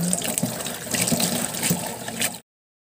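Seafood being washed under a running tap for kilawin, a steady close splash and gurgle of water into a sink that stops abruptly after about two and a half seconds.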